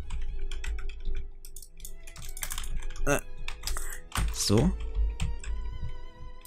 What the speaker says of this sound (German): Meine Tastatur klingt halt echt grauenhaft.